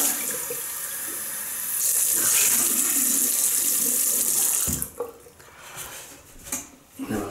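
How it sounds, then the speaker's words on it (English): Tap water runs steadily and loudly into a sink during a rinse after shaving, then cuts off into quieter splashes, drips and small handling clatters near the end. "Right, we'll rinse off."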